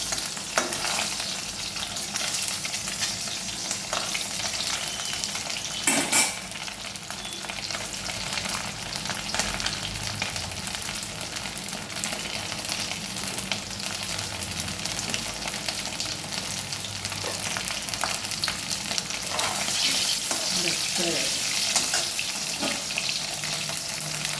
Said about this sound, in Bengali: খুব লাল লাল করে ভেজে নিলাম।